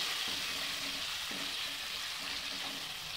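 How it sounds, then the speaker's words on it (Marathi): Large chunks of tomato frying in hot oil, a steady, even sizzling hiss with faint stirring movements underneath and no talking. "त्यानंतर मी इथे एक टोमॅटो घेतला होता, त्याला मोठे मोठे कापून घेतले आहे। ते मी ह्या तेलामध्ये टाकले"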